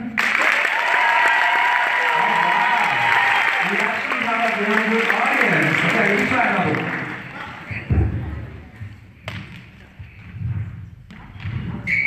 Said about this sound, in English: I'm gonna ask you for you guys to give me a round of applause